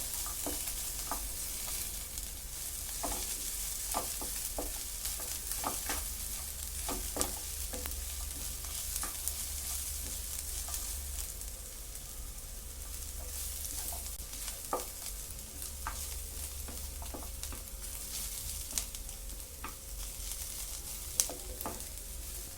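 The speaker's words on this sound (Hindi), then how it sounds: "प्याज को 3-4 मिनट तक इस तरह चलाते हुए जब इसका कलर चेंज होने लगे तो इसमें काजू भी ऐड कर लेंगे और काजू के साथ 3 मिनट के लिए फ्राई कर लेंगे" Onions and cashews fry steadily in a pan, a continuous soft sizzle broken by frequent scraping clicks of a spoon stirring, close and even throughout with no talking.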